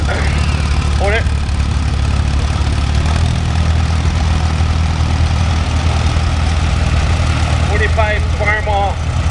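A 1948-era Farmall AB tractor engine idles steadily at a parade, its low rumble continuous throughout while nearby voices chatter over it.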